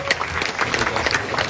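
A crowd breaks into brief, lively applause, quick overlapping claps with a few louder accents, rising and holding over a short burst.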